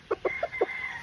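Short clucks from a brood stag (cross-bred fighting rooster), four quick bursts spaced a beat apart, close and fairly clear over a faint steady hum.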